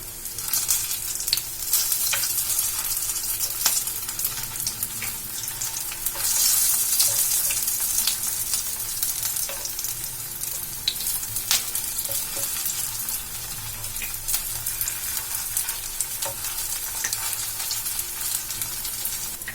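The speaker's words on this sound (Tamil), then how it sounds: "எடுத்துட்டு நம்ம எண்ணெயில் போட்டு ஃப்ரை பண்ணிக்கலாம்" Leftover idli pieces fry in hot oil as a snack, with a steady, dense sizzling and crackling that runs throughout and is occasionally broken by stirring.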